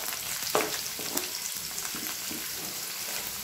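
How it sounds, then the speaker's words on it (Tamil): Three large onions, sliced lengthwise, fry in hot oil with a dense, even sizzle and small crackles, heard up close without talk. "எண்ணெய் நல்லா சூடானதும் மூணு பெரிய வெங்காயம் நீளமாக நறுக்கினதை சேர்த்துக்கலாம்."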